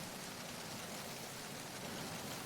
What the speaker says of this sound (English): Kind of sounds like the sound of rain on a tin shed or something